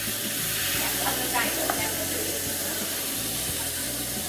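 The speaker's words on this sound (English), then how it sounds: "And then you fry the burger here." A burger fries in a pan, giving a steady close sizzle with soft hissing under a low repeating hum, with no talking.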